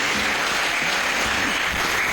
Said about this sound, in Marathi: त्यांच्यासाठी आपण जोरदार टाळ्या वाजवून एकदा रिस्पॉन्स द्यावा.